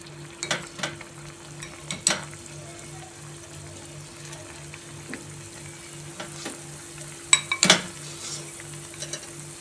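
Spiced paneer pieces fry in oil in a kadai with a soft sizzle and occasional clinks as the pieces are turned one by one.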